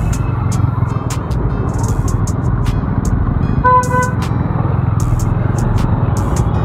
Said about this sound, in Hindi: भाई आज तो अंदर भी ट्रैफिक हो रहा, बाहर भी ट्रैफिक हो रहा